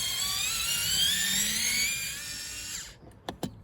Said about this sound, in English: Just give the screwdriver a quick twist manually and then extract the screw